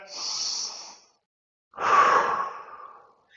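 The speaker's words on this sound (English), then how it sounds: "take a deep breath" Two slow, deep breaths taken during a stretching exercise for senior golfers: a long airy inhale, a silent pause, then a fuller exhale, close and fairly soft, with no talking.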